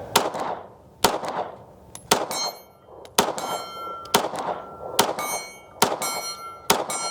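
CZ 75 SP-01 Tactical pistol shots ringing off a steel target, eight sharp loud reports at roughly one-second intervals, each followed by a metallic ping and brief echo.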